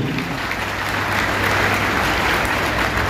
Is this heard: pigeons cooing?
no